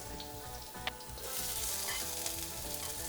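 Garlic, ginger and vegetables hit hot oil in a pan with a faint, continuous sizzle that swells into a fuller hiss as more goes in, with light stirring and no talk.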